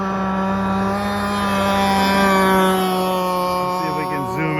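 A gas-powered R42 fiberglass model catamaran runs on a lake in upstate New York during break-in, its small engine holding a steady, moderately loud whine while a person talks over it.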